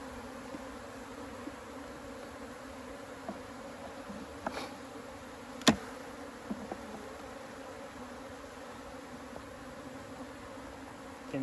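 Honeybees hum steadily during a hive inspection of a colony with mold, moisture and beetles, a dense close buzz with a few sharp clicks and bumps from handling the frames, and no talking.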